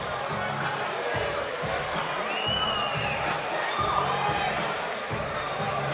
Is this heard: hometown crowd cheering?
yes